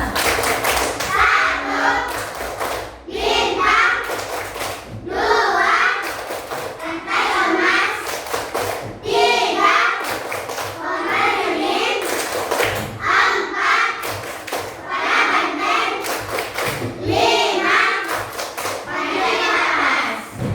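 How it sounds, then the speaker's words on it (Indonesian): A class of young children chanting the Tepuk Pancasila clapping chant in unison, rhythmic bursts of claps and taps locked to their sung words, repeating in regular phrases close by for the whole stretch. "Dan sekali lagi ya anak ibu. Tepuk Pancasila"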